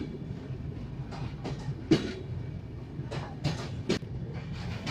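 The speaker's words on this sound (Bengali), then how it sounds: "এখানে কিছু সময় যাত্রা বিরতি দিয়ে ছেড়ে দিল আমাদের ট্রেন" Panchagarh Express train pulling out of Joypurhat railway station, a steady rumble of the cars with a few sharp clanks and rattles cutting through, heard from inside the moving train.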